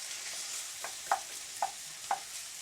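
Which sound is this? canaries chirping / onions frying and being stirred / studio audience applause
onions frying and being stirred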